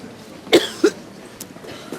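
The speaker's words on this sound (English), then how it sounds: "How long you had that cough for?" Two short, soft coughs close together near the start, followed by quiet room tone.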